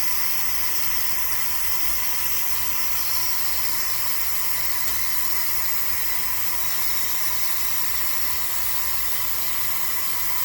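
Steady broad hiss of steam escaping from a new T-fal canning pot as it releases pressure, continuous and even throughout with no voices.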